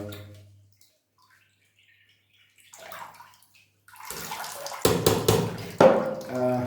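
Water splashes onto a potted plant, a couple of short bright splashes and pours near the end after quiet soft handling noises, with faint talk nearby.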